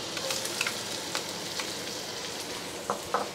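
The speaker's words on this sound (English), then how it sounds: "on top of our butter, we will add our onions." Onions frying in butter in a pan give off a steady, fairly quiet sizzle, with a few brief crackles and stirring scrapes near the end and no talking.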